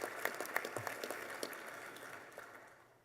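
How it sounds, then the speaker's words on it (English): Banquet audience at a hall of honor award dinner clapping for Coach Chuck King, a moderate burst of applause with distinct individual claps that gradually tapers away. "let's give Coach King an applause"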